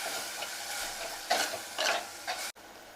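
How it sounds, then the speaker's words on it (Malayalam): A spoon stirs spices and ginger-garlic paste in a hot pan for a cauliflower curry, giving soft sizzling with a few louder scraping strokes in irregular bursts, close and fairly quiet, ending in a brief sharp clack. "ഇനി ഇതെല്ലാം കൂടി ഒന്ന് നന്നായിട്ട് മിക്സ് ചെയ്തെടുക്കണം"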